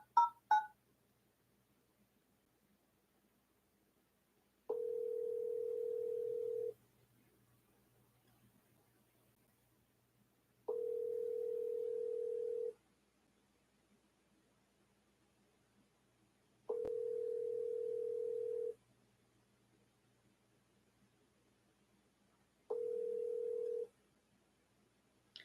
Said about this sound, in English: I'm going to call her one more time.